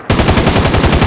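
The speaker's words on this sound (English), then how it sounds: "Taking fire!" Rapid automatic gunfire in Call of Duty: Modern Warfare, a fast, even stream of loud close shots that starts abruptly and runs without pause.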